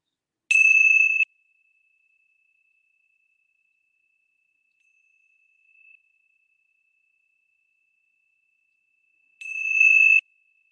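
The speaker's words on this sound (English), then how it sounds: "let's begin our time together with the ringing of the bells" A meditation bell is struck twice, about nine seconds apart, each strike a clear, bright ring whose tone lingers faintly through the quiet between them.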